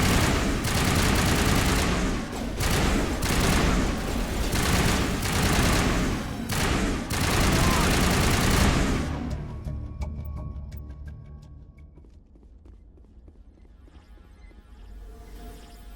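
Sustained, loud gunfire from a firefight in Mass Effect Legendary Edition, continuous overlapping shots for about nine seconds, then thinning into scattered distant shots and a quieter tail.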